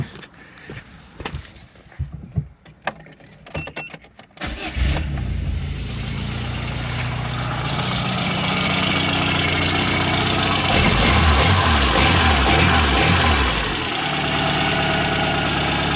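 A Peugeot 205 XR petrol engine cranks over with short bursts of sound, then catches and settles into a steady, close idle that runs on to the end.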